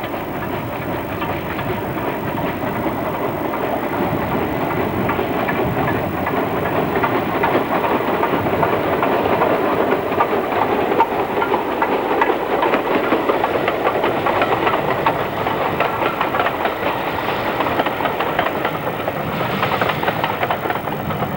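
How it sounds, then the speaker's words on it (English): A train on the North Yorkshire Moors Railway, descending from Goathland into the remote valley of Newtondale, rumbles steadily and loudly with a continuous engine drone and faint rail clatter throughout. "trains descend into the remote valley of Newtondale"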